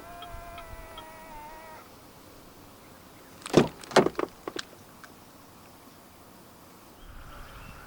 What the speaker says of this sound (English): And to unlock the car, just press the button on any of the front door handles again.